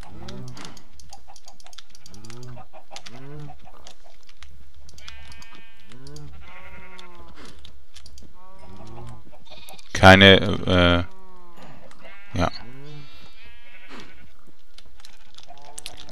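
Sheep bleat in the Minecraft game with Drago's Modpack, a few short loud bleats standing out between calm German speech and keyboard typing.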